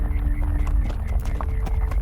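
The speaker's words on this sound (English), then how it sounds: "The horse nodded her head and jumped happily." Horse hooves clip-clopping in quick, uneven beats as a large horse jumps and prances, close and moderately loud, used as a story sound effect.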